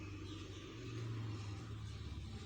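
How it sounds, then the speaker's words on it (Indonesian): A motorcycle passes at a distance, a faint steady low engine rumble that swells slightly in the middle and fades, with no voices. "Maaf, ada suara motor lewat dulu ya."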